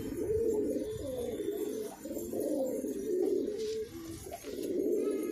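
Many domestic pigeons coo together in a soft, continuous, overlapping warble of low throaty calls, close by and steady with brief dips, with no talking.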